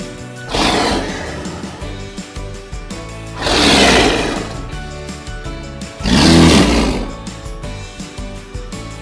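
A leopard roars three times in loud, rough bursts spaced a few seconds apart, each swelling and fading, with a low rumbling undertone between them.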